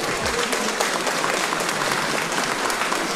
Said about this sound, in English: after the students erupt into cheers in response